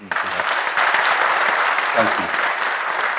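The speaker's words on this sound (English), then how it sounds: "let us also give a special round of applause to a distinguished member of the executive who is your dean" Audience applause fills a graduation ceremony hall, steady and dense throughout, with a brief voice speaking over it.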